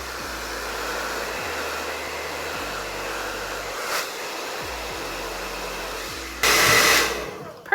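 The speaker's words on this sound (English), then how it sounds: "So let's do a little blow dry." A hair dryer blows hair with a steady close whooshing roar, its airflow pulsing slightly in a regular pattern before surging louder near the end.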